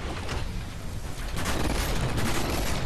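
Sustained gunfire in the Titanfall video game on Xbox One, a dense, continuous roar of rapid shots and explosions filling the whole stretch at steady high loudness.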